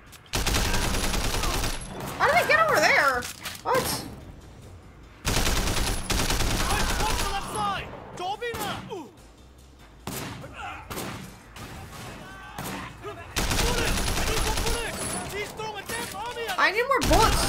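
Gunfire in Sleeping Dogs, loud bursts of rapid shots in several long volleys separated by brief lulls, with someone talking between and over the shooting.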